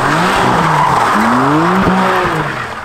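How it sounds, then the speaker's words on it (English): A sixth-generation Camaro doing a rolling burnout, tires squealing and skidding loudly with a rising, wavering engine note over a continuous roar, close by and without talk. "He did a rolling burnout just now"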